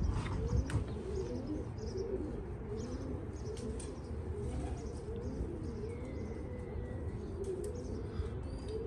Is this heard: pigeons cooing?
yes